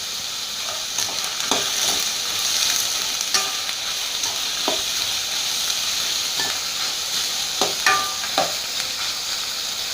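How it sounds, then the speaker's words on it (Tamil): Sliced onions sauté with four Kashmiri chillies in hot oil for a paneer gravy, a steady close sizzle and hiss with occasional scraping stirs and light clinks over the top. "நல்லா வெங்காயம் வதங்கின பின்னால் நான் கலருக்காகவும் ஃப்ளேவருக்காகவும் ஒரு 4 காஷ்மீரி சில்லி சேர்த்துறேன்."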